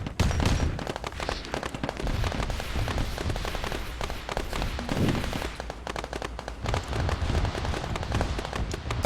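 Video game battle chaos with grenades exploding and smoke grenades popping: a dense, continuous barrage of cracks, pops and bursts, loud and unbroken throughout.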